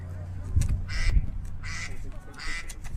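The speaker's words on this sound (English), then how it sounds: "There's a duck behind us." A duck quacks outdoors beside a youth soccer match, giving several loud honking calls in bursts, with low crowd and field noise throughout.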